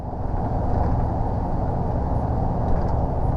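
A Class 2 truck drives on a UK road, heard as a steady, loud engine and road drone from the cab with a broad rumbling hum that holds even throughout.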